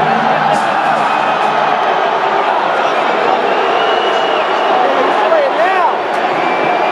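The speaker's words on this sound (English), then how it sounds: "We're literally getting booed for not singing a Spanish song tonight" A large concert crowd at a show in San Antonio roars and jeers in a loud, continuous wash of voices that fills the whole stretch.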